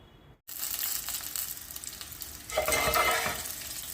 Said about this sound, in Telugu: దీన్ని కలిపేసేస్తాను, మిక్స్ చేసేస్తాను మొత్తం